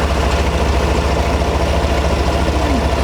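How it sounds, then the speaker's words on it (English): A 2017 Chevrolet Silverado pickup engine idles steadily nearby, a low continuous rumble with an even rhythmic pulse and no talking. "Truck sounds good, normal."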